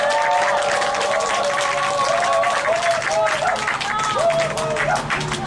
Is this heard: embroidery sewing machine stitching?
no